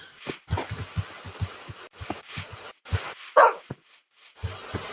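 A dog barks in Minecraft with several short, sharp yaps spread across a few seconds. One louder bark stands out among faint game clicks and thumps, with no talking.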